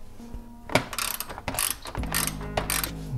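Quick ratchet clicks from a socket wrench backing out 10 mm bolts on a 2021 Toyota RAV4 during a horn replacement, fast close bursts with a brief pause mid-clip and a low engine-bay hum beneath.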